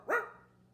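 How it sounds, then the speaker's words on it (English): A single short dog bark, clear and fairly close, used as a sound effect in a children's read-aloud story, followed by quiet. "Then one day, Gilbert woke up to find a dog barking at him."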